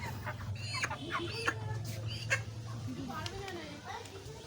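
Chickens cluck faintly and intermittently in the background while people talk nearby.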